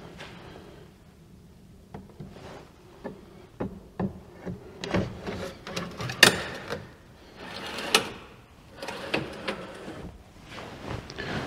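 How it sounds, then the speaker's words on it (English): A wooden drawer slides and knocks back into an old cabinet being converted into a workbench, with a series of thumps, scrapes and clunks at irregular intervals, fairly quiet and close. "All right, now we can put this first drawer back in."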